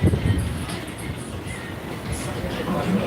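Strong wind buffeting a microphone on a city street in Mexicali beside a taco place and an outdoor store, a steady broadband rumble that swells at the start and end of the clip.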